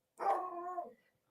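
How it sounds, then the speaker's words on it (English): A single dog bark, drawn out into a short howling yelp, isolated and fairly faint against silence. "Sorry for the dogs barking in the background."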